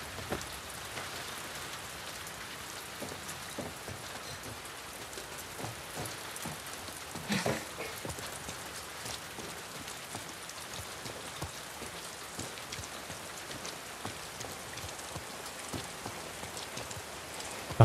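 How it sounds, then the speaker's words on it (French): Heavy rain pours down in the video game The Last of Us Part 2, a dense, steady patter of drops on surfaces that never lets up, with a brief louder swell partway through and no talk over it. "Une grosse pluie."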